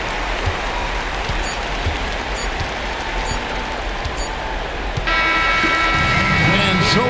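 A roaring arena crowd from the NBA 2K26 basketball game, NBA Finals against the Thunder, rumbles as a continuous dense wash with faint scattered claps, growing slightly louder toward the end, where a commentator-like voice and a rising tonal sound come in.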